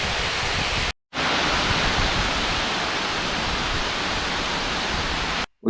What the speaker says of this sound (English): I can hear water running, so let's go and investigate what that is.